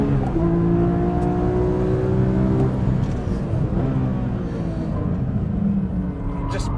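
A Porsche GT3 RS 4.0 on a track roars close by as its engine revs climb hard through rising gears, loud and continuous with a brief dip between pulls.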